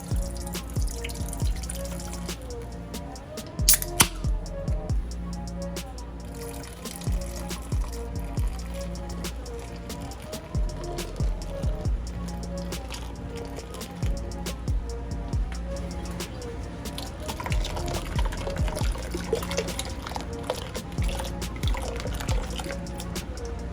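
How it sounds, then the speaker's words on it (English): Miller High Life beer pours from opened cans into a cooking pot for steaming shrimp, a steady liquid gurgle and dripping with a brief sharp clank near the start, running continuously with background music-like tones. "Let's open up some cans and let's get this beer"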